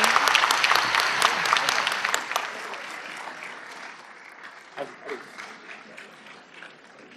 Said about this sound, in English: A big round of applause, everyone.